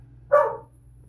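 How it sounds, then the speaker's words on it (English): A single short bark from a dog at moderate distance, rising sharply then trailing off over a low background hum. "What are you barking at?"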